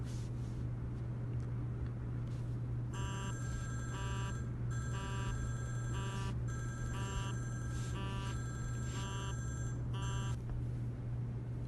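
A ringing phone tone sounds in repeated electronic bursts as a group conference call starts in a messaging app, steady and clear over a low constant hum, with no talk.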